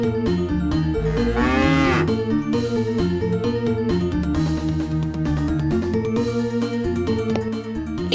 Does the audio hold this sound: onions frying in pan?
no